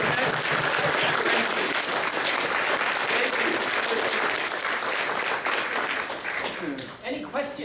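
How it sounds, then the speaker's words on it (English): Audience applause for a speaker at the close of a talk on an animation studio, a dense steady roar of many clapping hands that carries on throughout and thins out toward the end. "So we're gonna have a nice round of applause for Mike Valiquette."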